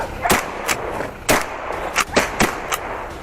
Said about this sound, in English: a shot was fired instantly